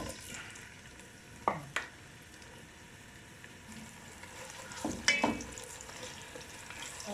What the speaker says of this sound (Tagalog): Mag-fry tayo ng sibuyas hanggang maging golden brown.